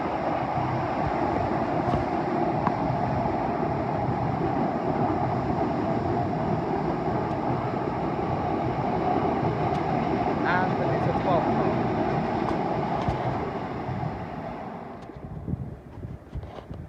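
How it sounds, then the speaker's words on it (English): London Northwestern Railway and Avanti West Coast trains run through Primrose Hill in a steady, loud broadband roar of wheels and motion that holds for most of the stretch before easing off near the end. "London Northwestern Railway service to Northampton, followed by the 1723 Avanti West Coast service to Birmingham New Street"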